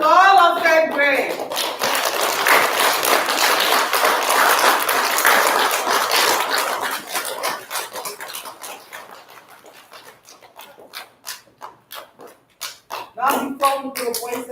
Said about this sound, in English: So now we can give a big clap to all of third grade.